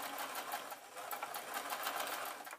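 A sewing machine runs steadily, stitching microfiber tea towel fabric for a steam mop cover, its rapid even needle chatter close and continuous throughout.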